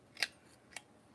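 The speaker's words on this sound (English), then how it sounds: "This is the little ticket punch. Why is it not cutting properly?" A small handheld ticket punch snaps twice through paper scraps, two sharp, crisp clicks about half a second apart, close and isolated against a quiet background.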